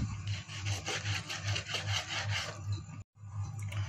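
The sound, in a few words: knife cutting beef into strips on a board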